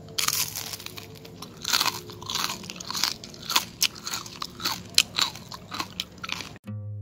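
Crispy batter-coated fried banana being bitten and chewed: crunchy bites followed by irregular crackling mastication, close to the mic and moderately loud, with no talk.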